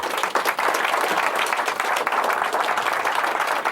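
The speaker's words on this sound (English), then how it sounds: "you'll get a nice round of applause" A crowd in a magic show audience gives a round of applause as a volunteer comes up, dense, even clapping that stays full and steady throughout.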